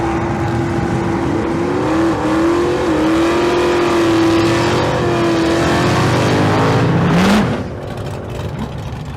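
Loud, continuous engine roar from small-tire street cars at a drag strip event, with a sustained revving drone that rises and then cuts off sharply near the end, leaving quieter background noise.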